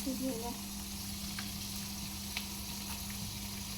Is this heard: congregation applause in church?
no